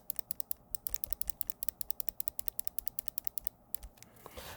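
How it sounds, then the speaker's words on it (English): Scroll wheel of a Glorious Model O gaming mouse rolled in quick bursts, a close, crisp train of rapid tiny clicks with brief gaps between runs, no voices. "We'll also do the scroll wheel."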